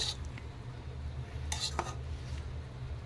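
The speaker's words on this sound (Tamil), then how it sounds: "இப்போ அடியிலேருந்து இப்படி பொறுமையாக இப்படி கிளறி விடணும்" Mushroom biryani is stirred slowly in a pot, a spoon scraping the bottom with a few soft clinks against the metal over a low steady background hum.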